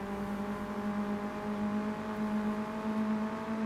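A rival car speeds up in a racing video game, a steady droning engine note holding a constant pitch throughout, close and fairly loud with no talk.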